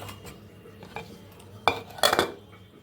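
A spoon knocks and scrapes against a pot while fish curry is stirred, with a few sharp clinks standing out near the end over a quiet background.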